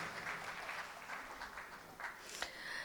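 Applause for musicians at a live Indian music concert, rendered as a soft, distant patter of clapping from the audience that is spread evenly through the clip.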